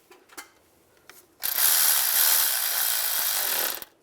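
A ratchet snugs up intake manifold bolts on a 2007–2013 Chevrolet Silverado 1500, with a couple of faint clicks before a dense, fast run of ratcheting clatter for about two seconds, close by.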